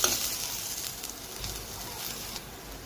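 Onion and garlic frying in a pan for a veg Kolhapuri curry, giving a soft continuous sizzle with faint stirring, low in level and without talking.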